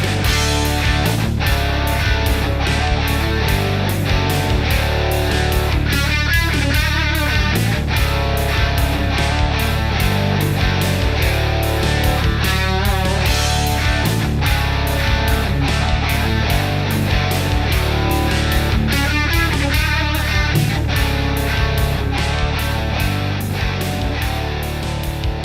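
A distorted electric guitar plays the full chorus riff of a song, with chords and the embellishing runs between them, dense and loud throughout over a steady low-end drive, with no talking.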